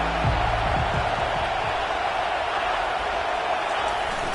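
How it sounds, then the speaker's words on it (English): Crowd at a football game roaring, a dense sustained wash of cheering noise holding steady throughout, with a voice briefly audible at the start. "listen to this crowd roar"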